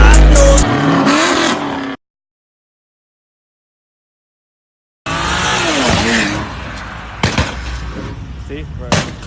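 A supercar with a loud exhaust revs in sharp roaring bursts with pops. A silent gap breaks the sound before it returns, and voices and background music mix in.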